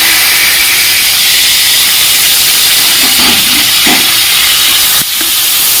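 Grated chopped onion fries in hot oil with green chilli for a fish curry, giving a loud, steady sizzling hiss with a few faint scrapes of stirring.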